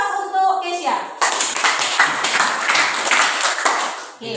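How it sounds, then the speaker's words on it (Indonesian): Students in a classroom clap for a classmate after a voice speaks, a short burst of close, uneven hand claps with sharp individual strikes that continues for a few seconds. "beri aplaus untuk Kesya"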